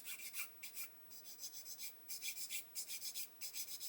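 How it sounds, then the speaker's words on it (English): Plastic parts from an Airfix 1/35 Alvis FV622 Stalwart model kit being sanded to remove mould seam lines: a series of short, rhythmic rasping strokes up close, each a quick scratchy rub, repeating steadily with brief gaps. "I want to be able to just hold these and sand away the seam lines"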